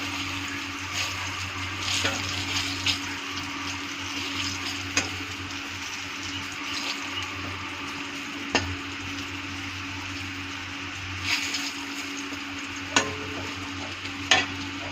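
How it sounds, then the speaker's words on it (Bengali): Eggplant slices frying and being stirred in a pan, with a steady sizzle running throughout and occasional sharp scrapes and clicks of the utensil against the pan. "দেখো আমার বেগুনটা ভাজা হয়ে গেল।"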